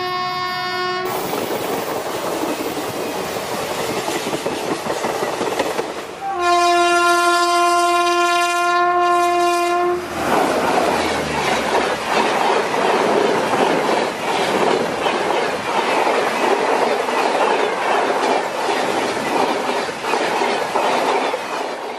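A passenger train rolls past with a rhythmic clickety-clack of wheels, a loud sustained horn blast of a few seconds early on, then continuous rumbling and rattling, close and loud without talk.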